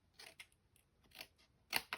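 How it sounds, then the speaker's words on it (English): Scissors snip card along score lines, giving a few short, crisp cuts spaced unevenly and heard up close in a quiet room with no talk. "I'm going to cut up these score lines just here like this to that first one"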